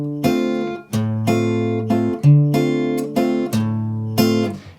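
Fingerpicked bossa nova guitar pattern on a nylon-sounding guitar: the thumb alternates bass notes while pinched chords ring over them in a looping syncopated rhythm, played close and alone.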